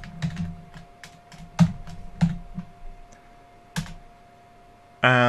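Keys clatter on a computer keyboard while text is entered in Notepad, a series of quick, close taps in uneven bursts with short pauses, ending in a louder burst of clicks; nobody talks.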